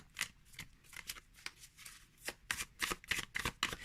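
A deck of standard-size tarot cards is shuffled by hand, giving a series of crisp riffling bursts close up, quieter at first and then quicker and louder, with no talking.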